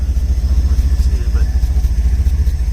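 The engine of a 1977 Ford F-250 SuperCab short bed runs close up through a makeshift exhaust built from flexible pipe and clamps, pulsing with a loud, throbbing low rumble. A voice talks over it.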